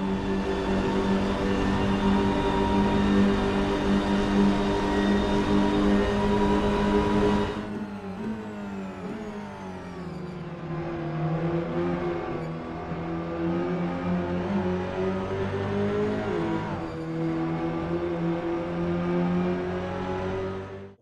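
A BMW GT3 car and a Radical race car on a circuit: loud, close engine roar held at high revs, then a sharp drop as one backs off, followed by repeated rising revs through gear changes.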